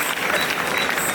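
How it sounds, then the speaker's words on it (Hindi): Audience applause at a Hindi poetry gathering (kavi sammelan) held at the Shri Sanwaliya ji Jal Jhulni Ekadashi fair, a dense, steady wash of many hands clapping that fills the whole moment without letup. "इस बात पर आपकी तालियां उठेंगी"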